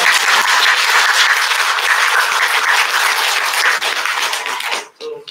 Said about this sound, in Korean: 저희 허성호 교수님은 큰 박수로 맞이해 주시기